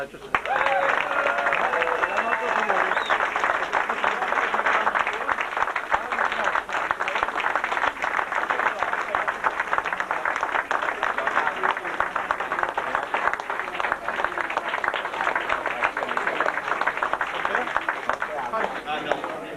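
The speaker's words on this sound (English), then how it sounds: "And a very special good applause for this man" A crowd at a Bakery Cup 50th anniversary celebration breaks into sustained, loud clapping that carries on steadily for nearly twenty seconds, with some cheering and voices mixed in near the start.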